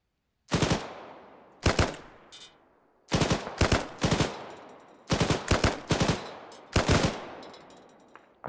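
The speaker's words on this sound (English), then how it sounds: "They're shooting." Arma 3 gunfire rings out in sharp bursts: single loud shots followed by rapid clusters of three to four rounds, spaced by brief silences, with no talking over it.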